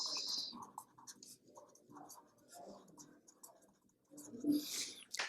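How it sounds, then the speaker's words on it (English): A pen writes on paper with quiet, close scratching strokes in short intermittent bursts, ending in a longer scribble. "I am writing here two expenses."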